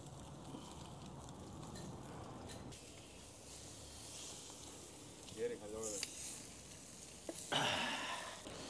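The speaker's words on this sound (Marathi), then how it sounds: "आपली 4 किलोची फिश मस्त फ्राय होईल याच्यावर. मस्त त्याच्यावर जाळी टाकून मस्त फिश ग्रिल करून घेऊ आता." A 4 kg fish grills on a mesh over a village wood-fired stove with a faint, steady sizzle and crackle, and a few louder pops, beneath a person talking.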